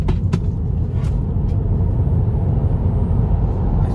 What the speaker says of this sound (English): We'll just do a little bit of acceleration, just for the hell of it, really.